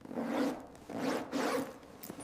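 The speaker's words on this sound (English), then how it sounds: "I zip my jacket." Jacket zipper pulled up in three quick, rasping strokes close to the microphone, with no talk over them.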